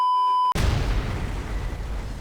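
A steady electronic beep cuts off abruptly into a loud booming explosion in the video game Crysis, followed by a low rumbling decay.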